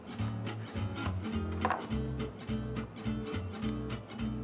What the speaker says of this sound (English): you're going to cut out the core